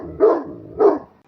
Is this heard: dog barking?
yes